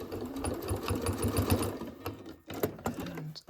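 A sewing machine stitches a towel in a steady close run of needle strokes, then stops and gives several short clicks and brief bursts as the fabric is adjusted.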